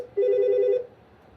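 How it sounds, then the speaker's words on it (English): A telephone gives a single loud electronic ring of just over half a second as it rings on toward voicemail, followed by quiet. "that should go over to voicemail very soon. So I say as it'll ring 15 more times."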